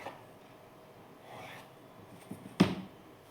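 A marker or chalk drawn across blouse fabric to mark a double line, a soft scratchy rub building gradually, then one sharp tap or snap near the end, close and quiet, no speech.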